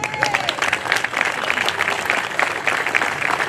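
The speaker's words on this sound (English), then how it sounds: "I'd like to introduce a round of applause for Walter Hagendorn." A crowd on a town green at a Vietnam veterans reunion applauds loudly and steadily, a dense, close wash of clapping hands that stays full and even throughout, with a brief whistle near the start.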